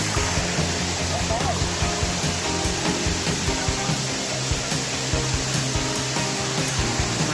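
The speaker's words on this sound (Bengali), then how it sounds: "কি জোস একটা ঝর্ণা দেখেন," A large waterfall on the Napittachora trail in Bangladesh roars as a steady, broad rush of falling water, loud and continuous throughout, with faint voices mixed in.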